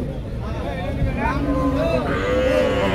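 Cows at a busy cattle market for milking cows and calves low in a drawn-out moo, close, with crowd noise and talk in the background.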